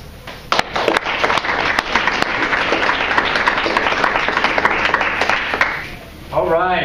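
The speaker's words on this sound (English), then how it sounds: "big round of applause again for our three finalists" An audience at a poetry slam applauds loudly with dense, sharp claps, sustained for several seconds before fading as a voice begins speaking at the end.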